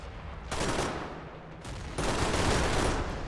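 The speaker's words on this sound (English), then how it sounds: "MG42 gunner firing away." An MG42 machine gun fires in RobZ Realism Mod, loud dense bursts of rapid shots in two long strings with a short pause between, set amid a battle around a church in Berlin.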